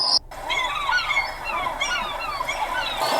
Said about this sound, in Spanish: o pájaros,